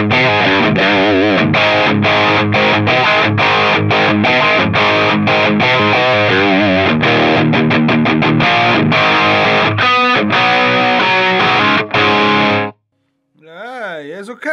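An electric guitar plays through a NUX Ace of Tone Dual Overdrive pedal, drive at zero and volume at maximum, gritty distorted chords and rhythmic strums throughout, ending in a short wavering effected phrase after a brief pause.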